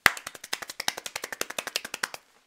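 Hand clapping, about twenty sharp claps in a steady, slightly quickening rhythm, close and alone, ending abruptly.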